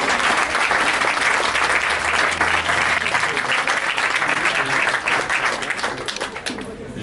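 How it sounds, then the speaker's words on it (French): A crowd at a magazine launch party on avenue Foch in Lyon applauds in dense, sustained clapping, loud and close, fading slightly at the end, with some voices underneath. "Vous pouvez les applaudir."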